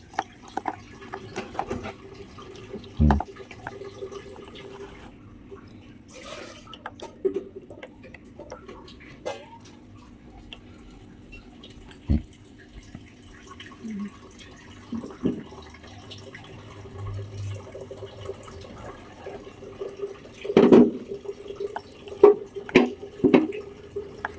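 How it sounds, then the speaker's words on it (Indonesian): Grass jelly liquid strained while water drains through, with sparse drips, trickles and small knocks over a quiet background, busier toward the end. "Kelihatan ya teman-teman ya, kita saring tuh, airnya turun ya tuh."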